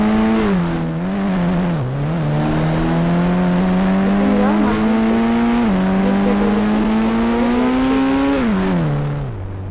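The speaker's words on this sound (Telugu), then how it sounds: "మన దగ్గర ఉన్న కార్ వేసుకొని పోలీస్ స్టేషన్కి" Game car engine running steadily throughout, its pitch rising and dipping as it revs and shifts, loud and close with no talking over it.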